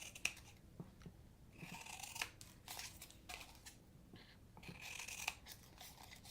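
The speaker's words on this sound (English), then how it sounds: "now I'm going to trim these 4 tabs" Scissors snip through the tabs of a paper birdhouse box in a quiet room, several short crisp cuts spaced a second or so apart, with faint paper rustling between them.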